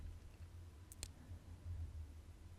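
A computer mouse clicks a download button on a laptop, two quick crisp clicks close together against a quiet low hum.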